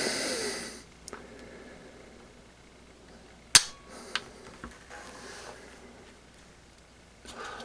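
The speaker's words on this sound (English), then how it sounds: "hit this, send the bolt back in the battery to load your weapon." On an M4A1 clone rifle, the bolt slams forward into battery with one sharp, close metallic clack, followed by a few faint handling clicks in an otherwise quiet room.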